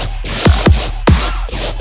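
Full riddim-style lead patch built in Serum, pushed through overdrive and OTT compression with boosted top and mids: dense, loud wall of distorted synth with three pitch-dropping wobble hits over a sustained heavy sub.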